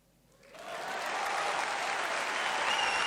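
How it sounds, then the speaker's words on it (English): A crowd's applause in the Steins;Gate 0 visual novel game swells in over half a second into a loud, dense, steady clapping that holds to the end. "There was a huge wave of applause."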